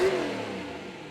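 Engine of a Hellcat muscle car revving at a drag strip, a loud, close roar that starts strong and settles into a steady, slightly fading drone for about a second.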